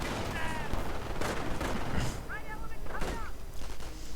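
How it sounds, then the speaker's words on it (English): An MG42 machine gun fires in a strategy video game battle, loud rattling bursts mixed with explosions and whistling shells, all dense and close, with game voices briefly sounding. "Down here getting stopped by the MG42"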